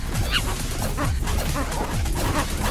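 Robot dogs bark in the video game Tokyo Jungle, with repeated yips and barks packed densely over busy game noise and a steady backdrop.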